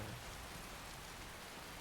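Steady rain falling in the Skyrim game world, a constant soft broadband patter with no breaks or other sounds.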